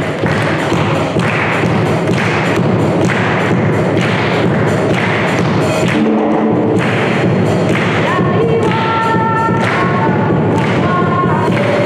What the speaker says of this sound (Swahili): Tupigeni Bwana Yesu makofi